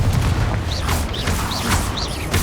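A Confringo blasting curse explodes in Hogwarts Legacy during a duel, giving a dense, loud, booming roar with rapid crackling bursts that repeat throughout.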